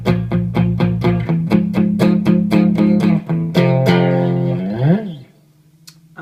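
An electric guitar on a clean tone, ahead of an MXR Badass 78 distortion pedal, plays a steady run of loud, evenly spaced plucked notes, then a sliding bend and a ringing sustained note that fades to near silence.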